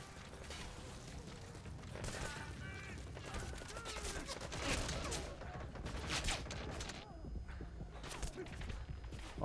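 Gunfire in the stealth shooter Metal Gear Solid V: The Phantom Pain, with busy combat noise, shots and clattering mechanisms running continuously at moderate loudness, and someone talking over it.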